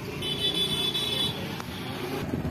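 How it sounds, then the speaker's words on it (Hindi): A 2021 TVS Jupiter ZX BS6 scooter idling close by, a steady low engine hum throughout with a brief high whine early on. "अब मैं आपको बाइक का साउंड सुना देता हूँ गाइज"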